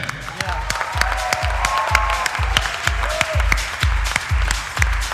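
A large audience at a thank-you event applauds steadily in a dense, continuous wash of clapping with some cheering, while a rhythmic low beat of music thumps underneath.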